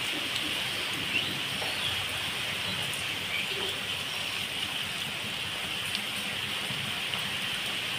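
Soybean pakoras fry in hot oil with a steady, dense, rain-like sizzle that holds at an even level throughout, with no talking over it.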